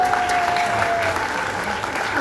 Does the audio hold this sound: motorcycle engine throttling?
no